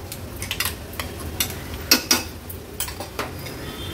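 Ground masala paste being stirred and sautéed in oil in a pan for a fish curry, with a spoon scraping and clinking against the metal in quick irregular strokes under a soft background sizzle.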